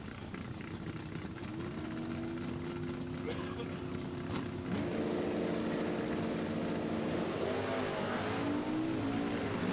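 A drag-pack Dodge Challenger with a 392 Hemi lines up beside a supercharged 350 with a Whipple blower at a stock eliminator drag race, engines rumbling and revving at the line before the note rises louder.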